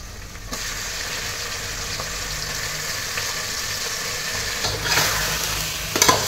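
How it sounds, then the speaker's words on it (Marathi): Washed mutton goes into hot oil for a traditional Kolhapuri dry mutton curry, raising a steady, loud, close sizzle that swells briefly near the end. "आता यामध्ये हे धुतलेलं मटण टाका"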